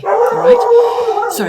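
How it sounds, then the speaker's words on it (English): Dogs bark and yip close by, their sharp calls overlapping with a person speaking. "excuse the dogs barking."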